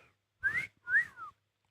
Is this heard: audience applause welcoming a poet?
no